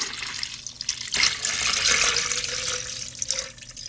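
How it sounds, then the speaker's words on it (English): Spiced apple punch pours in a steady splashing stream onto alcohol already in a container, a close, continuous liquid rush lasting a few seconds with no talking. "what we're gonna do is pour the rest in right on top of our alcohol"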